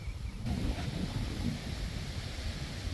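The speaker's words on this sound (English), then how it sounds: "it is really breezy out" Strong wind blows outdoors after Hurricane Helene, a steady low roar buffeting the microphone without pause for the whole stretch.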